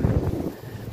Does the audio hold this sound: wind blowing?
yes